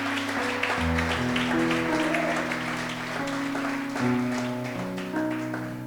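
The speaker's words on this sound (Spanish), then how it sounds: "Dale otro fuerte aplauso a Dios." Congregation clapping during a church sermon, a steady wash of applause under sustained organ or keyboard chords, moderately loud and continuous throughout.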